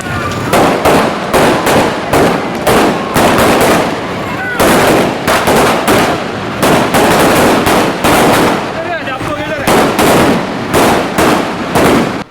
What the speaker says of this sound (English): the supporters lit firecrackers in celebration